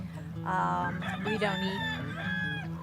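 A rooster crows clearly and loudly among rescued, mostly injured birds, with one long cock-a-doodle-doo rising and falling, steady low hum underneath and no speech.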